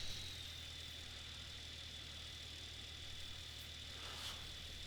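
A tractor engine in Farming Simulator 15 idles steadily, a low constant drone with a faint high whine running through it, quiet and unbroken for the whole stretch.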